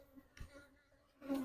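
Honeybees in a nuc box buzz faintly and briefly, with a louder burst of close buzzing at the end.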